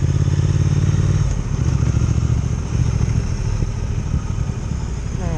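A Triumph Speed Twin motorcycle on its stock exhaust runs with a loud, steady, throbbing engine rumble that stays close and continuous throughout, with no talking.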